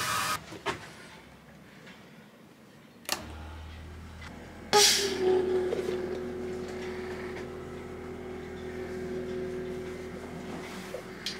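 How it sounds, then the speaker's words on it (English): A newly installed freshwater pump on a sailboat clicks on, then settles into a steady, moderately quiet motor hum with a faint whine, running continuously after a brief louder surge. "I just finished wiring in the pump, so about to turn it on and see what happens."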